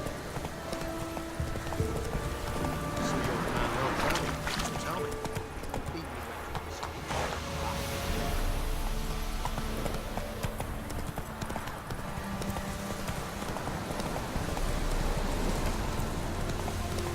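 A horse gallops in The Witcher 3, its hooves drumming in a fast continuous rhythm over a rainy hiss, with a whinny and a few game sounds mixed in.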